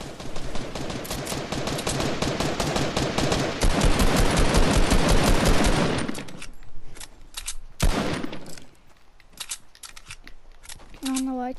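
Rapid bursts of Fortnite gunfire crackle loud and dense for several seconds, then thin out into scattered single shots and quieter game sounds near the end.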